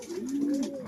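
Pigeons coo in a loft, a close, low rolling coo that rises and falls over under a second, with no talking.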